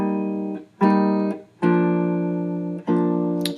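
Sustained jazz guitar block chords from a junior high all-region etude, played in four clear strummed chord blocks with short gaps between them, ringing full and close with no voices.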